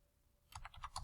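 Computer keyboard keys are tapped in a quick run of about six clicks while entering a command in AutoCAD, close and quiet against a faint background hum.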